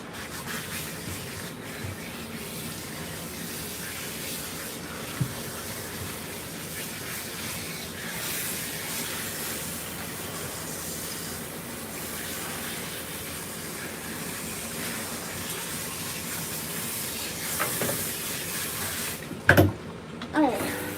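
Running water rinses a Maine Coon cat during a bath, a steady close hiss and splash with rubbing sounds, and a few louder knocks near the end.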